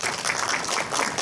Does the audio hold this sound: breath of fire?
no